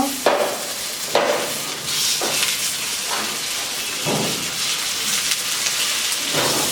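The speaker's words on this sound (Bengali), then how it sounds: "এক পিস তো আরেক পিসও আমি এরকম করে ভেজে নিব" Pangas fish kebabs sizzle in a frying pan, a loud continuous crackle of hot oil with sharper spatters as pieces are handled and turned.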